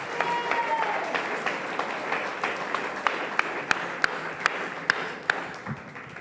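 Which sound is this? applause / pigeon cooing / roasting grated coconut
applause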